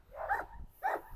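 A large poodle whimpers in two short, high whining cries, close and fairly quiet, set against faint indoor background.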